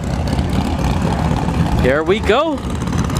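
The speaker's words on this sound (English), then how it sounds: "All right, I hear engines fired." Drag racing car engines rumble steadily at a drag strip during sportsman finals, a continuous loud low drone with a brief voice speaking over it.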